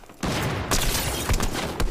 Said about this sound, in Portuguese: E tão trocando tiro.